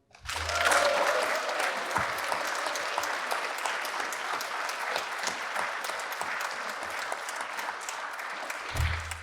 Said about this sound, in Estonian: Teeme selle üle väga kõva aplausi.